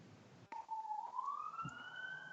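Siren wailing outside, a faint rising tone that starts abruptly and sweeps upward as it passes, distant and thin under a quiet background.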